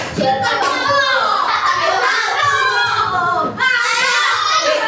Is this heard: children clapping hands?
yes